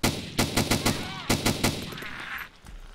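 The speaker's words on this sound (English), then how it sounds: "I can hear the MK17" In Arma 2 DayZ, MK17 rifle gunfire comes as a rapid string of loud, sharp shots in quick bursts, fading into quieter ambience at the end.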